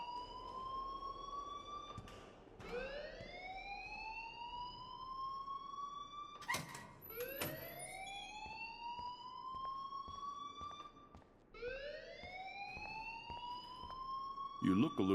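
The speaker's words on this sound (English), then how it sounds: "please turn off that alarm since that's your job" An alarm sounds in the Life Is Strange video game, a loud wailing siren tone that sweeps upward and repeats in long rising cycles, with a sharp burst partway through.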